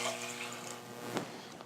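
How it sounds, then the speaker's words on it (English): Water pours steadily from a measuring cup into a pot of rice in a Platinum wok, a continuous close splashing stream with a small burble near the end and no talking. "I'll just go ahead and add the water to it."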